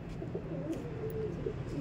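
Pigeons coo softly in a racing-pigeon loft, low rolling calls repeating against a steady background hum with no talking.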